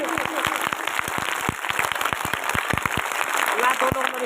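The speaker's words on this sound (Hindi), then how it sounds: "जोरदार ताली बजाइए।" Audience applause at a Republic Day school poetry recital in India: sharp, uneven hand claps scattered over a steady roomy background roar for about four seconds.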